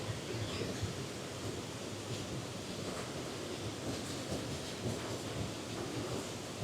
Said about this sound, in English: The power of the water